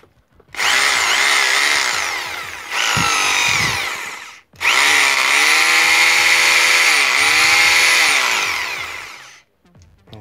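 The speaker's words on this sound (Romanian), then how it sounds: "Hai să vedem găurirea cu percuție." Makita HR2470 SDS Plus rotary hammer drilling in hammer (percussion) mode, producing a loud, dense rattling whine in three bursts of differing length with short gaps between them.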